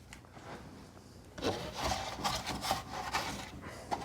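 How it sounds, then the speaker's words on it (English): An old handsaw cuts plasterboard while fitting around a roof window: a quiet pause, then rough back-and-forth rasping strokes up close, uneven in rhythm, with no talking. "So I like to use a handsaw, an old handsaw for this."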